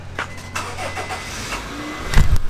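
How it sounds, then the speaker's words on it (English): A car engine starts and idles briefly with mechanical clicks and a low rumble, rising near the end as the vehicle is moved out of a spot. "moving the car right now so we can swap the Accord in there"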